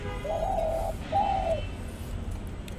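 A dove coos twice beside its nest, where it sits on eggs; two short, near, clear calls with a pause between, over a low steady background hum.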